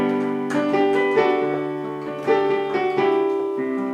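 A chord progression in a songwriter's original song, played with a major five chord in place of the minor one, a few sustained chords changing every second or so, full and close with no talking.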